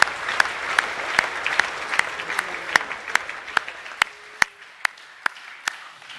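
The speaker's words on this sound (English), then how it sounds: "Can we just give a round of applause for all students receiving awards?" An audience at a school academic awards assembly for years 10 to 12 claps, sparse and thinning, with individual sharp claps ringing out at a steady beat over a faint hall murmur that fades toward the end.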